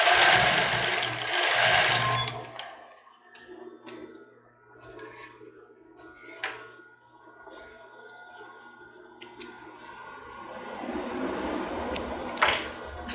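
A sewing machine backstitches fabric for a cropped top, with a loud fast burst of stitching at first, then softer intermittent clicks and whirring as the seam continues.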